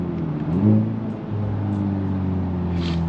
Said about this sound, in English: I think the motor sounds better in this car than it does in mine